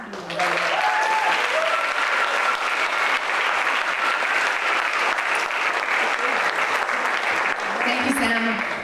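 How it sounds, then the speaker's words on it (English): A seated audience claps in a dense, sustained round of applause at the close of a storytelling event, loud and steady for several seconds before tapering slightly at the end. "round of applause for them"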